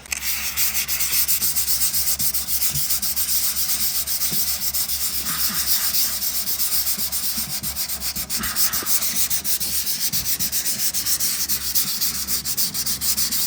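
Sandpaper scrubs steadily across the bodywork of a 1964 Ford Galaxie being prepared for paint, a continuous close, loud rasping rub with rhythmic back-and-forth strokes and no talk.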